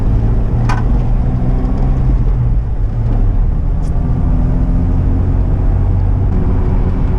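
A 2004 Jeep TJ with a standard transmission drives in a low gear, its engine a steady, loud, close rumble with a constant low drone and no talk.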